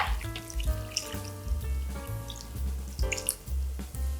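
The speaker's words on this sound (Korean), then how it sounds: "육수물 만들어 놓은 걸 부어주기만 하면 끝입니다" Prepared broth poured into a bowl of Korean cold cucumber soup with sliced peppers, giving close, steady dripping and splashing liquid sounds over a background of sustained tones.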